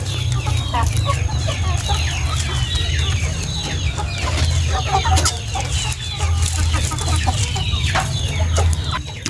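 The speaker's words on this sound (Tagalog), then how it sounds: "Kasi sanay na naman ang mga manok namin na kumain ng mga ganyan." Chickens cluck busily and continuously while eating sweet potato leaves on a Filipino backyard farm, several birds calling close by over a steady low hum, with an occasional rooster crow.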